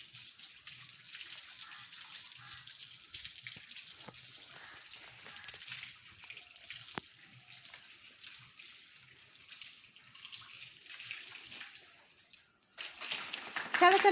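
Water runs and splashes while a child is bathed at home, a continuous hiss of flowing water with small splashes, and a louder gush near the end.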